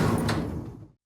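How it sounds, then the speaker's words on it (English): Elevator doors slide open with a single short, close mechanical rumble and a brief ring near its start, fading out in about a second. "the elevator doors chimed."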